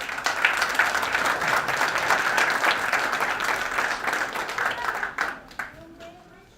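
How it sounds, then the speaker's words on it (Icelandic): Audience applause for a performing group, a full, dense burst of many hands clapping at steady strength before thinning and fading out over the last second or so. "Gefið þeim gott klapp."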